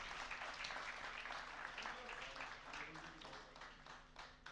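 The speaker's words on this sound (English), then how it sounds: "Let's not stop the tradition of clapping and appreciating." Audience applause for an award winner at a finance summit and awards ceremony, steady clapping lasting throughout, moderately distant and fairly quiet with some voices mixed in.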